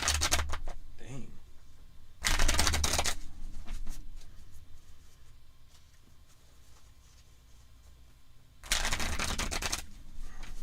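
A deck of playing cards for an APBA tabletop soccer game is shuffled by hand in two loud, rapid riffling bursts of about a second each, with quieter handling and a voice between them.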